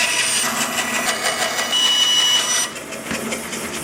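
A thin piece of maple is cut with a saw, a close, loud, bright rasping with rhythmic pulsing, steady before softening and changing tone near the end.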